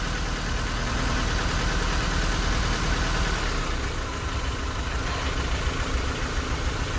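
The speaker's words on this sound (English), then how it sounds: "So you have the engine running without a choke." A 1987 Honda CRX DX engine idles steadily without choke, with a low, even rumble and faint knocking texture, no speech, holding constant throughout.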